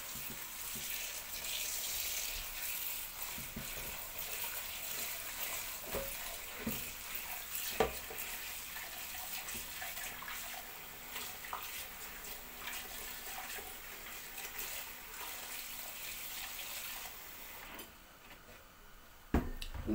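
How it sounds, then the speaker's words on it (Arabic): Running tap water splashes steadily over muddy molokhia (jute mallow) leaves being washed in a kitchen sink, a continuous close hiss of flowing water with brief clatters from handling, no talking. "طبعا بتتغسل كويس عشان فيها كان فيها طين ياما"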